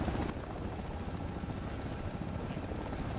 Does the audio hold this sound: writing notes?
no